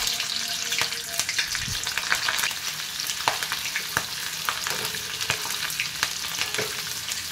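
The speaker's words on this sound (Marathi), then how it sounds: "आता ह्या तेलात मी मिरच्या घालत" Green chillies fry in hot oil for Kolhapuri vada pav, giving a steady close sizzle with scattered sharp crackles and pops and no voices.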